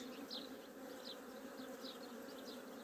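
Honeybees hum steadily around an opened hive during a queen check, a close, continuous buzz with individual bees zipping past the listener every so often.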